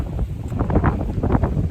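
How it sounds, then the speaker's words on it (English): Strong gale-force wind batters a campsite around a Big Agnes Copper Spur HV UL1 three-season tent, a loud, continuous roaring rush with gusty surges and flapping, close to the microphone with no voices. "It's extremely windy now."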